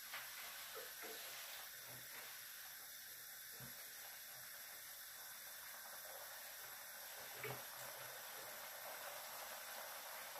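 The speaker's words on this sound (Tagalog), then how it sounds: "Kumukulo na siya." Spaghetti sauce simmering in a pot with celery, a steady faint bubbling hiss throughout with a few soft knocks, no talking.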